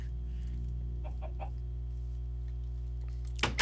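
An agitated chicken in a video game clucks in a few short bursts over a steady low electrical hum, with a louder squawk near the end.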